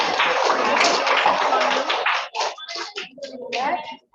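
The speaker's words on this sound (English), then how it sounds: "Clap for him, guys." Ninth-grade students in a classroom burst into a dense round of clapping for a classmate. The applause lasts about two seconds, then fades into scattered voices and talk.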